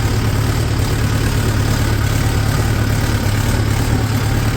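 A 4x4 tractor's diesel engine runs steadily at about 1150 RPM while working a muddy field with an eleven-tine cultivator, producing a loud, constant low drone and throb without voices.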